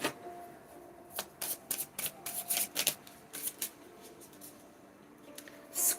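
Oracle cards from an Animal Spirit Oracle deck are shuffled by hand in a quiet room, producing a series of crisp riffling and flicking bursts of varying length, with one longer rustle at the end.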